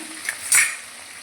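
A short burst of sizzling in a pan, with a soft scrape of stirring partway through, under a steady frying hiss.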